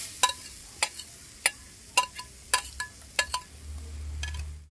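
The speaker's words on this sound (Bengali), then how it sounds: "প্রথমে আমি নারকেলটা চিনি দিয়ে ভেজে নেব" Grated coconut and sugar being stirred in a wok: about ten quiet, sharp metallic clinks and taps of a spatula against the pan at an uneven pace, then a low, steady hum rising at the end.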